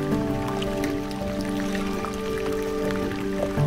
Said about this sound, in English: You can hear all the ice popping.